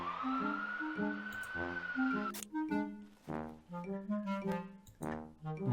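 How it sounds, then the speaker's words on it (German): Police sirens in the PC adventure game The Wardrobe wail in repeating tonal pulses after a rising opening sweep, heard alone at a fairly low level. "Da höre ich die Sirenen."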